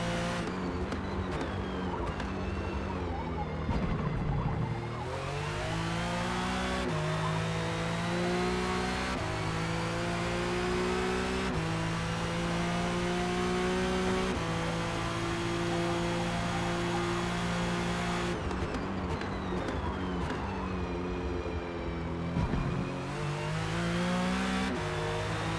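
A race car engine in a sim racing session at Kyalami drones steadily and loudly, rising and falling through gear changes with brief tire scrub as the rear end slides under power, no voices over it.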